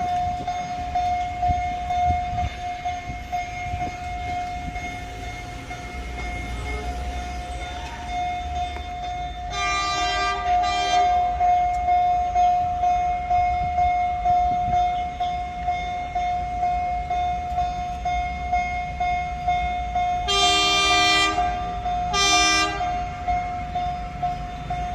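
A narrow-gauge sugarcane train at the Huwei Sugar Factory in Taiwan, a line in service since 1907, rumbles steadily along with a constant tone and sounds its horn in two separate blasts.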